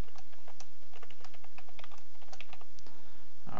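Someone types a password on a computer keyboard: a quick, steady run of light key clicks, close up and alone, with no voice.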